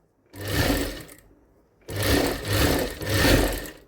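A sewing machine stitches a blouse in two bursts of rapid mechanical whirring, one short and one longer, separated by a brief pause, close and clear with no talk.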